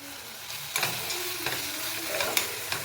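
Ginger garlic paste sizzles steadily in a hot pan while being stirred for an egg dum biryani, with soft scraping strokes recurring every half second or so over a constant frying hiss.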